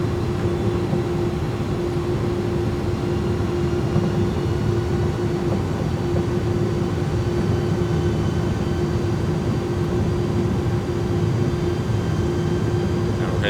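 Airbus A300-600 jet engines spooling up to takeoff thrust in a flight simulator, heard as a loud, steady roar with a constant low hum held evenly throughout.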